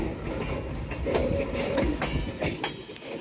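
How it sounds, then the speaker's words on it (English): A CPKC or Amtrak train runs along street-running tracks beside a moving car, a steady rumble of wagons with rhythmic clicks and clacks, heard close and without speech. "driving alongside a moving train"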